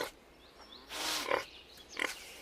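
Pigs grunting in a farm pen at feeding time, a few short rough grunts and snorts near the middle and end of a quiet stretch, close by and fairly clear.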